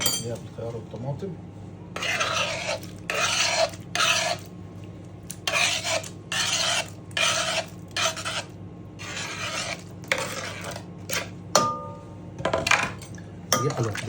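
Cucumber and tomato being stirred into an Egyptian country salad dressing in a bowl, heard as repeated scraping, rubbing bursts with light clinks of utensil against the dish, fairly close and steady in rhythm.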